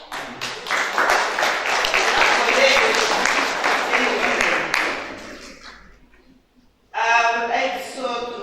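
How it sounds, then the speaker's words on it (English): Audience applause fills a university hall at an inter-university human rights competition, a loud sustained round of clapping that fades out, then a short gap before a fresh burst of clapping starts again. "clapping for them and by also clapping for God"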